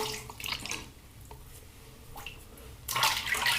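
Water runs while lavender shaving cream is rinsed off during a shave, with short splashing bursts at the start and a louder rush of water near the end around a quieter middle.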